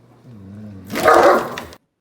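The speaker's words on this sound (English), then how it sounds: "Why is the dog barking?" A dog whimpers briefly, then lets out a single loud, close bark that breaks off abruptly, with silence afterward.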